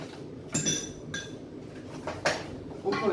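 A spoon clinks and scrapes against a bowl in a few sharp separate knocks while muffin batter is scooped, close and moderately loud with quiet gaps between strikes.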